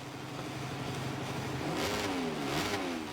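Race motorbikes in MotoGP 25 launch off the start, a steady mid-pitched engine drone rising into revving whines that sweep upward together, fairly faint and without talk.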